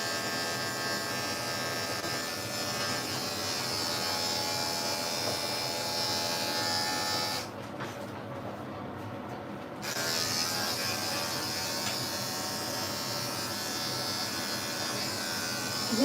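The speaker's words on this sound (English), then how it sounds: "He does not like the clipper" Electric dog clippers buzz steadily and close while grooming a Yorkie, with a brief pause partway through before the whirring resumes; no clear talking.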